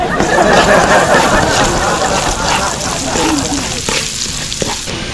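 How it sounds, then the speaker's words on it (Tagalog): Garlic and onion sautéing together in a pan for a mung bean dish, a loud continuous sizzle with stirring scrapes throughout. "pagsabayin ko na yung bawang at sibuyas para hindi sila mag-away"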